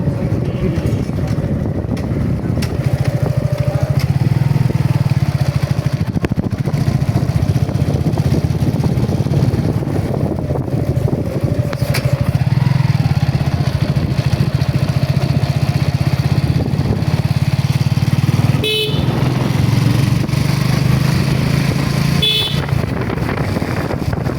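A motorbike engine runs steadily while riding through local streets, a constant low drone close by for the whole stretch, with a couple of brief horn-like tones near the end.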